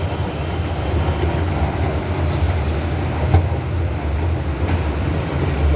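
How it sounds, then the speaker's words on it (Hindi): A steady, loud low rumble of a train running through a metro station in Rawalpindi, with faint clanks and no talking. "ये मेट्रो स्टेशन है रावलपिंडी में।"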